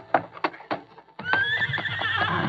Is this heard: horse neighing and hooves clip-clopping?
yes